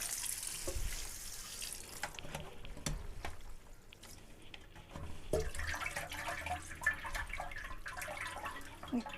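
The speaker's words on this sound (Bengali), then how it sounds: "পানিটা ছেড়ে দিলাম।" Tap water runs steadily into a kitchen sink to rinse cooked noodles, a continuous splashing hiss with a few louder clatters, close by and without voices.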